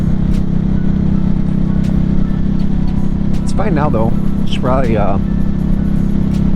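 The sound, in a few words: Harley-Davidson Nightster motorcycle engine idling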